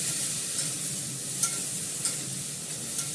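Turmeric, salt and spices sautéing in a pan, a strong, even frying hiss heard close, with a few light ticks of stirring and no voices.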